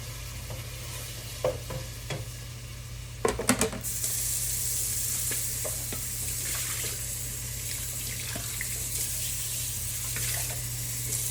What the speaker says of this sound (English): I'm gonna add the tomato and let it cook for a few minutes before I add the beans